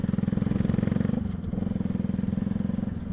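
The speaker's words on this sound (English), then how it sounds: "The exhaust feels very aggressive and it is so loud, and the exhaust is without dB killer" Pulsar 200NS motorcycle with a modified exhaust and no dB killer idles loud and close, a deep rapid thumping pulse that dips briefly before resuming its steady beat.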